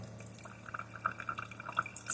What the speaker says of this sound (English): today it's going to be 79 degrees and it's raining